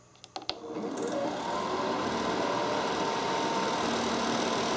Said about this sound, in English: the compressor will automatically kick on and the fan will default to medium